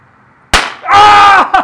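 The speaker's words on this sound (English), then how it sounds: "So you got these two strings, you pull on them and they pop sometimes" A pull-string firecracker gives one sharp, loud pop, followed by a sustained bright hissing burst and a short final crackle, all close up.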